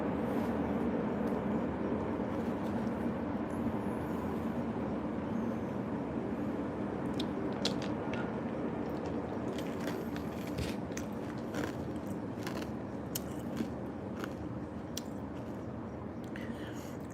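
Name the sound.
old American train running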